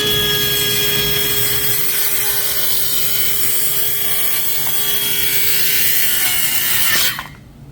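A Milwaukee circular saw with a roughly 5 3/4 inch blade cuts through beechwood, a loud steady whining drone held for about seven seconds before the cut ends and the blade spins down.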